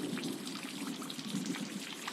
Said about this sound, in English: It started to rain on and off while we were paddling.